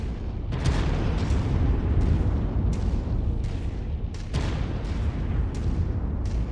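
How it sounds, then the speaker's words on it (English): Artillery shells exploding in a MechWarrior 5: Mercenaries battle, a dense run of heavy booms and rumbling blasts, several sharp impacts rising above a continuous loud low roar with no voices. "You can see we've got artillery going off."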